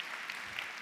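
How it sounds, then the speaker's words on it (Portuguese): Soft, distant applause from an audience welcoming a speaker at a business talk, a brief wash of scattered clapping at low level. "Uma salva de palmas."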